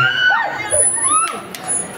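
Crowd at a mall stage event in Isetann Recto shrieking and shouting loudly, a burst of high excited voices, mostly women and kids, rising and falling over two seconds.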